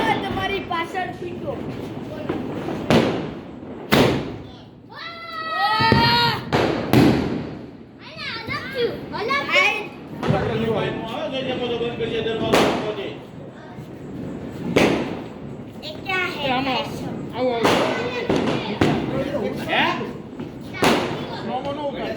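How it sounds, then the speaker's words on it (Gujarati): Diwali firecrackers burst in a series of sharp, loud bangs and thuds spread across a lively outdoor scene, with children and adults talking and calling out between and over the blasts. "દિવાળીનો છેલ્લો ફટાકડો છે"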